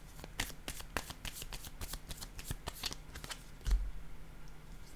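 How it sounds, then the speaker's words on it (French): Playing cards are handled and laid down in a quick series of crisp riffling clicks and snaps, close and fairly quiet, ending in a soft thump, with no talking. "Je vais déposer une carte pour cette zone."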